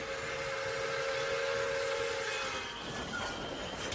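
A train moving past a small, remote hill-country railway station, with a long steady whistle-like tone over a rumbling, hissing wash that loosens and fades toward the end.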